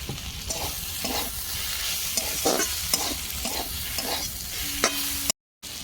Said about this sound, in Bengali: পনির শাক ভাজা হয়ে গেছে এবার খুব সামান্য সর্ষে তেল দিচ্ছি